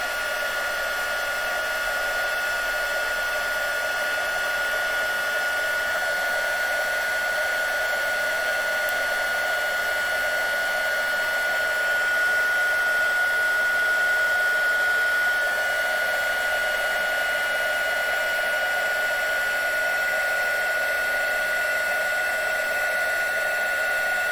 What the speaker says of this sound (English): let's heat up my heat gun, and we are away